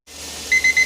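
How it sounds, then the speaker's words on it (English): Kitchen timer sounding during pressure canning of seasoned beans: a faint hum, then four sharp, loud repeated beeps in quick rhythm near the end. "our timer's going off"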